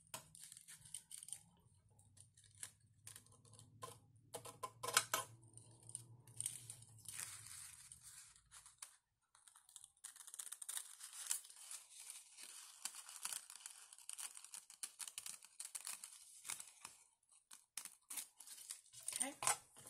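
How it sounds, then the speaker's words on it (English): Scissors cut through tulle and crepe paper in a series of crisp snips and crinkly rustles, close and fairly quiet, with stretches of handling noise between cuts and no voices. "Cut off the excess, and then we're going to cut this down so it's at the edge of the crepe paper again."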